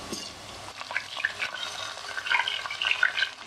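Chicken pieces go into a pan of light-browned onions, and a steady hiss of frying follows with wet sizzling crackles and occasional stirring scrapes, moderately close.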